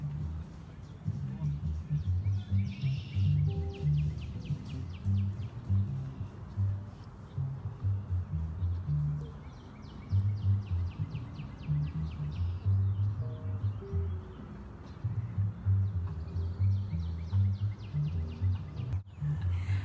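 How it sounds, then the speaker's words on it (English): A northern cardinal sings outdoors beside a river during a canoe trip, clear repeated whistled phrases at middle distance over a low continuous background rumble. "You can hear the birds today. That's gorgeous. That's a cardinal."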